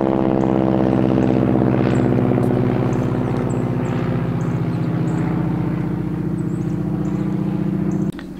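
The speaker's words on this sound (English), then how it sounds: "how often I have a loud old prop engine type plane interrupt my filming" A loud old propeller plane drones overhead in a steady, close roar with a throbbing engine hum that slowly fades, heard alone on a homestead in winter.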